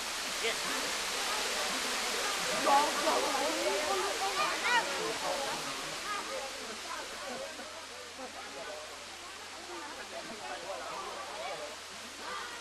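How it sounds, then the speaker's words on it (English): The 80-meter Namuang waterfall on Koh Samui, Thailand: a steady, broad rush of falling water that holds an even, full roar throughout, with a faint bird-like chirp here and there. "at Namuang 2, you can marvel the great 80 meters waterfall."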